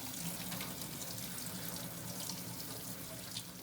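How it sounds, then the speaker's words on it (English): Cold tap water runs in a steady, close hiss over boiled noodles sitting in a strainer, the stream constant and unbroken with no speech. "then douse it with some cold water"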